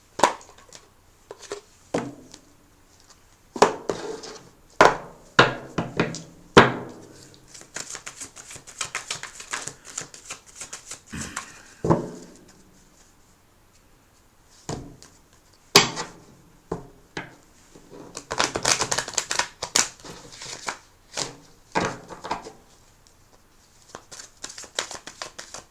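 Angel oracle cards are shuffled and pulled from the deck in a long run of crisp riffles, slaps and taps, some sharp and close, others softer, separated by brief pauses.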